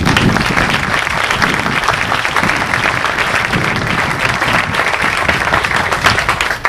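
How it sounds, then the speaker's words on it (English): Graduation ceremony audience gives a round of applause, a dense, loud wash of many hands clapping that carries on steadily for several seconds without speech. "Please give me a round of applause."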